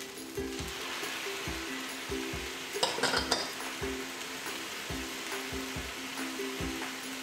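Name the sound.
soy sauce sizzling in wok with fried rice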